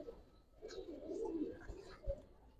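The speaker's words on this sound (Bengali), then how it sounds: "খুব ভালো কবুতর ইনশাল্লাহ।" Giribaz pigeons coo softly at close range in a short low murmuring burst, with a faint click or two around it.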